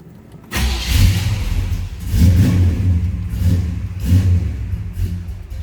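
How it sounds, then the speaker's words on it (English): A 1970 Chevrolet Chevelle V8, a little cold-blooded, cranks and catches after a brief pause, then settles into a lumpy idle broken by several loud, deep revs in steady succession. "Let's go ahead and fire this up."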